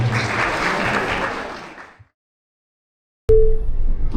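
Wedding guests in a banquet hall applaud the singers performing, a burst of clapping that fades out after about two seconds, then silence, then an abrupt loud return of room sound.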